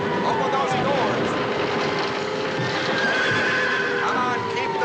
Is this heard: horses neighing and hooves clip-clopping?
yes